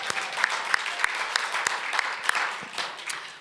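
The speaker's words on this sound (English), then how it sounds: "Clap for Mike." An audience at the inauguration of a press club president applauds, a crowd of steady clapping with a few sharp, close individual claps standing out, without talk.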